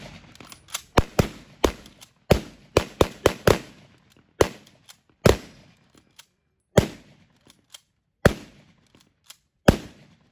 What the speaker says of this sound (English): I was shooting the rifle semi-automatic using the gas pressure to cycle the weapon.